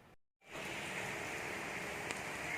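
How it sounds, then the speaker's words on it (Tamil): Diwali rain falls in Neyveli, a steady, dense hiss that starts after a brief silent gap and continues evenly, with no voices. "பாருங்க, தீபாவளிக்கு மழை ஸ்டார்ட் ஆயிடுச்சு."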